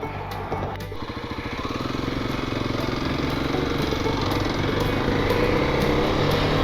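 A Kawasaki KLX-300 dirt bike engine on a sandy, dirt trail, a close, steady engine drone that settles into an even idle after a brief rough start.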